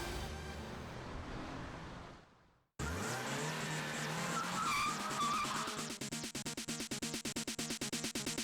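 A 2002 Mini Cooper S on the move: road and engine noise cuts out briefly, then returns with a rising engine note, tyre noise and a fast rhythmic pulsing toward the end, fairly loud and close.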